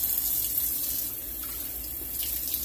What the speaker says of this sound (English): Just give it a little bath like this and rinse it.